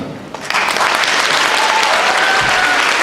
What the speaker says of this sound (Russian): сегодняшний вечер заслуживает ваших аплодисментов